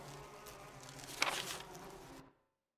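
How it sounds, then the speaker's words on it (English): Angry bees from a Resident Evil video game, a thin buzzing swarm with a brief sharp burst near the middle, moderately quiet, cutting off abruptly into silence. "Bees! They're angry as hell!"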